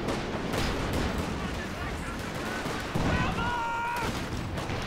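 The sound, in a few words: tank shots on Panzer IV, video game Company of Heroes 2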